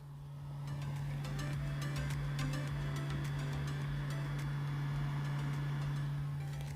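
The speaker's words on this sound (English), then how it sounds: "that's the sound of a battery that is charging" A Makita battery charger charging a battery gives a steady low electrical hum that drones without change, with faint clicks and rustling on top, quiet and close.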